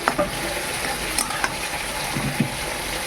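Jute leaves cooking in a pan, stirred with a spatula, giving a steady sizzle broken by several scraping strokes and light knocks against the metal.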